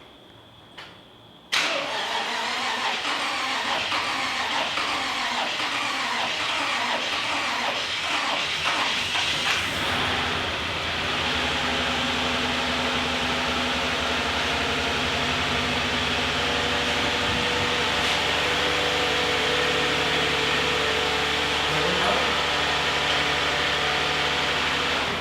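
A swapped engine in a flood-damaged Toyota Sienna cranks over and catches, then runs loud and steady with a continuous roaring hum that carries on for over twenty seconds.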